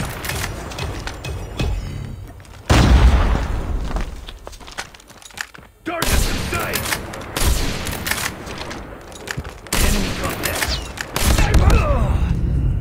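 Gunfire from a shooter video game, with several loud sniper rifle shots and booms standing out in separate bursts over continuous game noise, while a person talks throughout.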